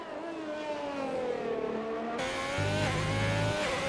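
Race car engines in a racing video game at the Abu Dhabi circuit drone and rise steadily as cars pass, with a continuous engine whine and no voices.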